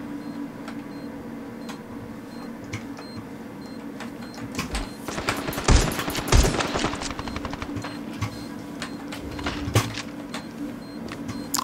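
Kalashnikov assault rifle firing in the mobile shooter game Standoff 2, sharp rapid bursts of gunfire clustered mid-clip over steady game background noise and clicks.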